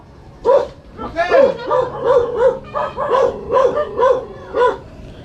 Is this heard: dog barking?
yes